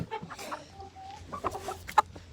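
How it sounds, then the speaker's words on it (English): Rhode Island Red hen clucking close by on a farm, a few short throaty clucks and a drawn-out murmuring note, ending in a sharper squawk. "See, good chicken. Rhode Island Red, she's a hen."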